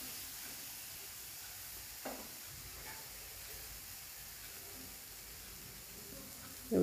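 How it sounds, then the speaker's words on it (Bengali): Spice masala with chili and cumin powder sautés in a pan with a soft, steady sizzle and hiss, quiet and continuous, with a couple of faint scrapes. "এবার মশলাটা ভালো করে কষিয়ে নেব।"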